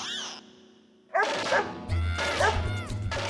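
A dog barks loudly and close by in a residential housing society, a few sharp barks in bursts after a quieter opening, with a steady low hum and some voices nearby.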